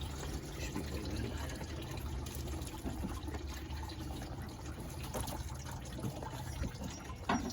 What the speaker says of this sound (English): As you can see, a lot of the water comes out.